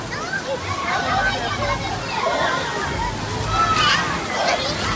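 Water gushes and splashes continuously at an outdoor water park, a loud, close sloshing rush with bursts of spray, while people talk excitedly over it throughout.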